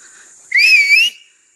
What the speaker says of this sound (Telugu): అగ్గో మా వాడు విజిల్ కొడతాడు